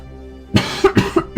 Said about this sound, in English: Cough, cough, cough, cough, cough, cough, cough.